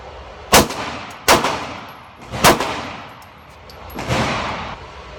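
Video game gunfire aimed at an enemy armed with a machine pistol: four loud, sharp shots spaced about a second apart, each followed by a short echoing tail.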